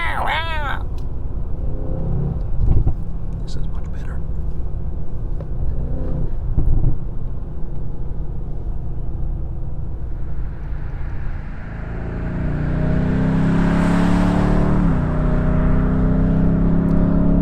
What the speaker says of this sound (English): BMW, it has a sound of an impatient race car